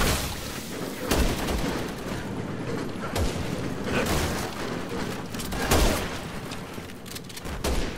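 Sniper gunfire in Resident Evil 6 comes as repeated sharp bursts and cracks over a dense game soundscape, with loud shots spaced every second or two throughout.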